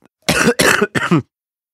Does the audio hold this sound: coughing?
yes